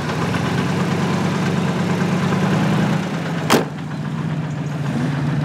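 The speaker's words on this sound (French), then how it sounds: "On entend le moteur d'un V8. C'est un V8. V8 américain, V8 Chrysler." An American Chrysler V8 engine in a Facel Vega FV3B idles steadily with a low, even rumble, then a brief sharp click cuts through before the engine carries on running.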